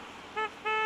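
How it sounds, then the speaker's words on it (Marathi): Horn of a Hero Splendor motorcycle sounding two short, nearby honks, the second slightly longer, with no speech. "बघा हॉर्न वाजवते, हॉर्न नाही वाजत आहे."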